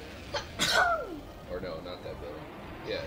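A single loud, sharp sneeze bursts out early, followed by someone talking casually and other murmured speech over faint background sound.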